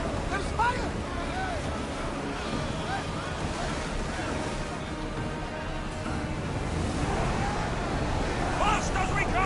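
Sailing ship at sea in Assassin's Creed Odyssey: steady surf and wind roar wash continuously around the vessel, with game voices shouting over the water.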